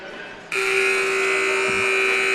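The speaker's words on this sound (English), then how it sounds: "So the halftime buzzer sounds" A loud, sustained electronic halftime buzzer at a men's college basketball game blares suddenly and holds steady, drowning out the quieter crowd murmur that came before it.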